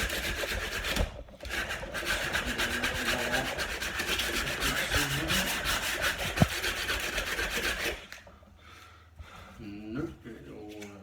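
Sandpaper rasps steadily across the wooden surface of a dining table in quick rubbing strokes, stopping abruptly near the end, with a voice heard faintly under the scratching.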